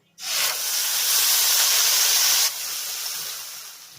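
Ground spice paste dropped into hot oil with cumin seeds erupts in a sudden loud, hissing sizzle that eases slightly after a couple of seconds and keeps frying steadily.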